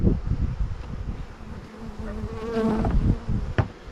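Honey bees buzz steadily around hive frames with wax foundation at a Ukrainian apiary, a dense, close, continuous drone with a few louder passes of individual bees.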